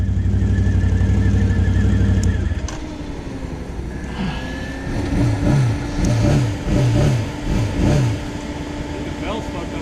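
A Can-Am Outlander 1000 XMR ATV engine, reportedly with a damaged belt, drones loudly up close, then revs in a series of rising and falling bursts; a voice speaks over it.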